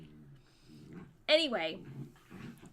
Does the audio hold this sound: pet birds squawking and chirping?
no